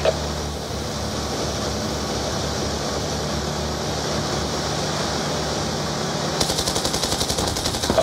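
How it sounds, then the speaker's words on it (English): Sustained enemy gunfire in Call of Duty: Black Ops 2 rattles over a battle with cavalry and tanks, a continuous dense roar, and near the end a distinct rapid machine-gun burst pulses in even, fast repeats. "Vehicle Alpha is receiving enemy fire."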